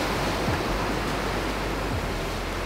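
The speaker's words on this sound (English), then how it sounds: "the waves are really nice coming in" Waves roll in on the rocks at Marblehead Lighthouse, a steady broadband wash of surf with faint low swells, continuous and fairly distant with no voices.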